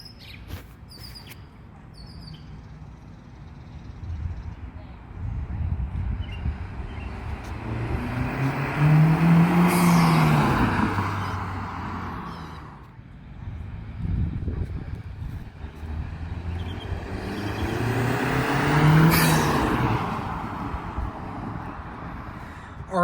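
A 2022 Honda Civic Si with a PRL cold air intake drives past, its engine swelling louder and fading twice as it nears and recedes, with a faint bird chirping in the background.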